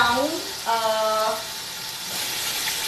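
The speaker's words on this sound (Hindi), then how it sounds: "टू ग्लासेज ऑफ वाटर इसमें डाल दीजिए" Water, about two glasses, poured into a hot pan of Punjabi-style mutton and potato curry, giving a continuous sizzle and splash under brief tonal, voice-like sounds early on.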